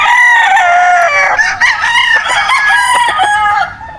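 A game-farm rooster crows loudly and close by, a long drawn-out call with rising and falling pitch, heard alone.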